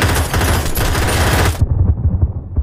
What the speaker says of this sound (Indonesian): Hal itu membuat baku tembak antara anak buah pisau besar dan Brian tak terbendung dan sangat sengit.